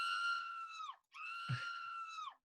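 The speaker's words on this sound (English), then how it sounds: "By random chance, I'm getting mainly screams" Two sustained, shrill screams from a sound-effects library, each lasting about a second, separated by a brief pause with a low thump in the second, heard alone without talk.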